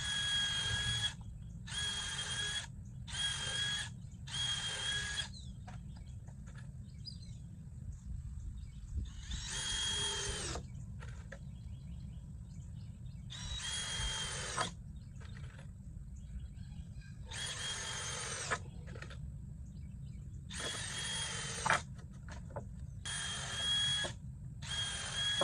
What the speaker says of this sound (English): I'm going to go ahead and pre-drill because I just love to pre-drill when I'm using screws.